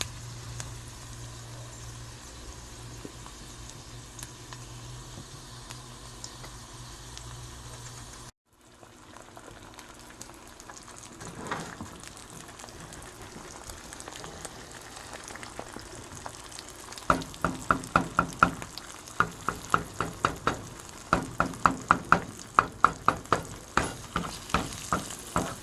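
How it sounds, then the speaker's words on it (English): Bologna slices fry in butter in a pan, giving a steady close sizzle that turns into a denser, crackling spatter with sharp pops in the second half. "All of this is fried in butter, in case you're wondering."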